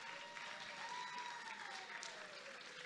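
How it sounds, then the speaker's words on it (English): Audience applause at the Miss World Nigeria pageant, a steady wash of many hands clapping at a moderate distance, with faint crowd murmur underneath. "Please give them a round of applause"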